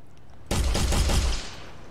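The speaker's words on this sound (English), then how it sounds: "this sound effect for this gun is a little bit on the wimpy side. Don't really care for that gunshot sound." A sniper rifle fires once in an Unreal Engine 4 game, a single sharp synthetic gunshot bursting out after a short silence and decaying over about a second with a thin, somewhat weak tail.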